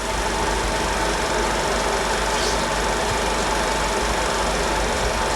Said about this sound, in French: Le petit moteur de la Morini.